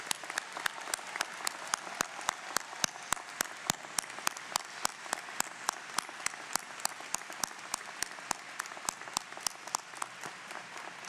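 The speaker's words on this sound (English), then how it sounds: "I think you all deserve an incredible round of applause" Clapping at a University of Guelph convocation for the graduating class, heard as a steady wash of audience applause with distinct sharp claps standing out at a regular pace throughout.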